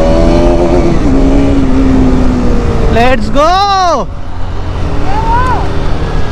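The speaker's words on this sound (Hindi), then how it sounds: "अब अच्छा लग रहा है ना विदाउट एग्जॉस्ट बाइक चलाने में?" An R15 motorcycle with its exhaust removed runs loud and raw. A rising rev at mid-clip sweeps up and back down, while someone speaks briefly over the engine.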